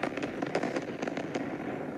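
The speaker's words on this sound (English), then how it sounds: "The fireworks have started again." Fireworks in the WorldBox video game crackle and pop in a dense, continuous flurry of small bursts, moderately quiet and steady throughout.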